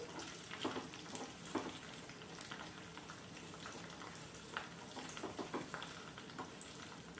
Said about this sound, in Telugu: ఇవన్నీ నేతిలో వేయించడం వల్ల కొబ్బరి కూడా చాలా రుచిగా ఉంటుంది.